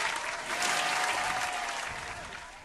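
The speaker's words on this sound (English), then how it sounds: "Let's go ahead and give them a round of applause." An audience applauds improv performers at a comedy show, a dense, steady wash of clapping that swells slightly and then slowly tapers off, with no voices over it.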